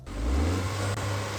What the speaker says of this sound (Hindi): अब आपने जैसे रेव किया, जब आपका इंजन जो है वो थोड़ा सा वोकल कर रहा है